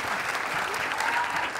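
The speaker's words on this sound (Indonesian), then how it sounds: "tepuk tangan dulu untuk dua chef ini" A TV talk show studio audience bursts into brief, dense applause for two chefs, a short loud round of clapping.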